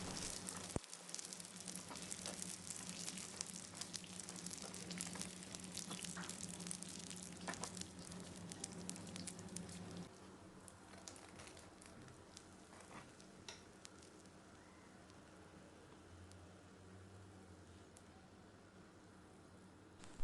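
Pişi dough fries in hot oil in a pan, giving a steady close sizzle with crackling pops. The sizzle grows quieter about halfway through and carries on at a lower level.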